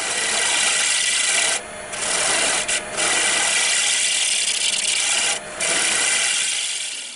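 Steady, loud scraping hiss of a tool cutting a green wood bowl on a lathe, running almost continuously with a few brief breaks.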